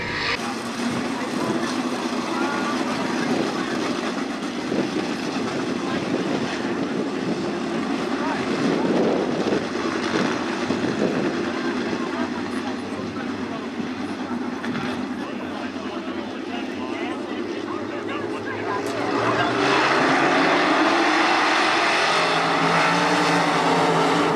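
Multiple 305 sprint cars roaring around a dirt oval at Attica Raceway Park as they head out for heat races, a loud continuous engine drone that swells near the end as the pack accelerates.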